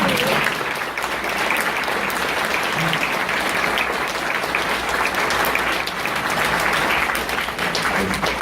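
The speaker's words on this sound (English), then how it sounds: "So I think you should applaud that." A convention panel audience applauds at length, a dense, steady wash of clapping from a large crowd that holds at an even level throughout.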